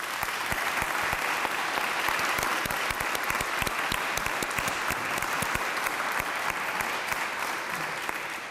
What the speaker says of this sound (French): Je vous demande de les applaudir bien chaudement.